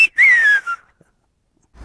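A single loud, clear whistle of the Gran Canaria whistled language sweeps up and then slowly glides downward, followed by a short second note and then near silence.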